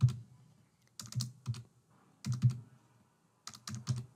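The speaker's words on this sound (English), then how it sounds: "So I am typing here confirmation." Typing on a computer keyboard: quick clusters of crisp key clicks in short bursts separated by brief pauses, close and fairly quiet, with no talking.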